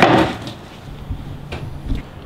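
A wooden tabletop for a Dungeons and Dragons table, built in a workshop, is flipped back upright, giving a loud initial scrape and clatter of wood followed by a few duller knocks and thumps as it settles.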